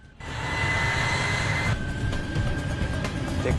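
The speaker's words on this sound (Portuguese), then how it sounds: "Rolagem iniciada." Aircraft engine roar during a takeoff roll on runway 16, steady and loud throughout, with a sustained high whine over broadband rumble and no talk.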